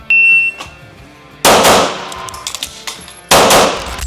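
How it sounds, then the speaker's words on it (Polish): Stealth Arms Platypus airsoft pistol fires loud, sharp shots: a first burst near the start, then two strong cracks with ringing tails spaced about two seconds apart, separated by clicks and handling noise from a magazine change. "Teraz będzie dwa strzały, zmiana maga, dwa strzały."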